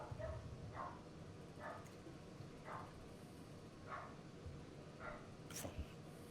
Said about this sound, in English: Yeah, dog barking, exactly.